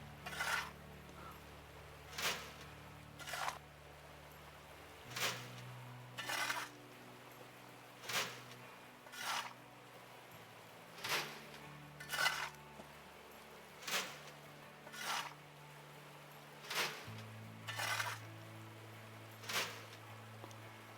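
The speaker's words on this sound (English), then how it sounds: "We get out our trusty old shovel and we try to get 6 ounces of gold." Shovel digging for gold in Gold Mining Simulator, a video game: regular scraping, crunching strikes about every second or two, alone over a low machine hum that shifts in pitch.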